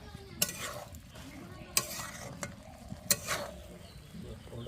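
Fried small fish gently stirred in a pan with taro, a quiet sizzle under a few sharp spatula scrapes and knocks against the pan, spaced about a second apart, with no speech.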